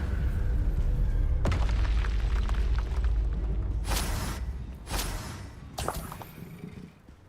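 Bombarda spell explosions in Hogwarts Legacy, a deep rumbling boom followed by several sharp blasts and thuds that fade toward the end.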